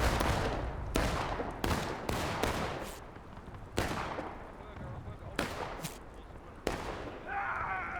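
Musket volleys in a Civil War-era video game battle, a string of sharp separate shots and cracks at irregular intervals, some close and loud, with faint voices beneath near the end.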